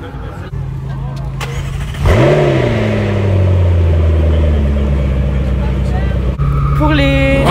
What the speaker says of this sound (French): Nous avons été malencontreusement coupés par la 458 Spider qui a démarré